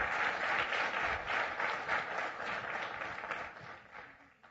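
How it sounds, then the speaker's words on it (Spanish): Church congregation clapping in a sustained, broad burst that slowly thins and fades toward the end, with no speech on top. "Ese aplauso es para Dios,"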